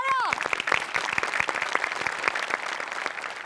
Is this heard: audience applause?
yes